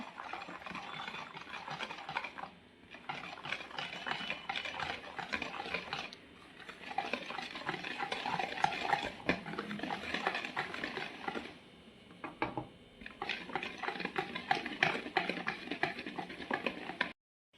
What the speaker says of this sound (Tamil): இப்போ மைதா பவுடரை கொஞ்சம் கொஞ்சமாக போட்டு கலக்கிக்கலாம்